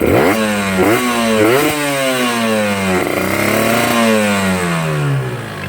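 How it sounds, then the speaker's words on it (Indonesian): Two-stroke motorcycle engine with a rich carburettor setting, revving loud and close in repeated rising and falling sweeps with a rough, burbling note and a heavy low end. "Ini bisa digas, cuman berebet ya, putaran bawahnya berat."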